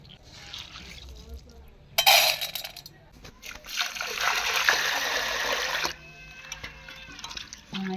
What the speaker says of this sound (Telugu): ఇలాగా నీళ్ళు పోసుకొని ఒకటికి నాలుగైదు సార్లు కడుక్కోవాలి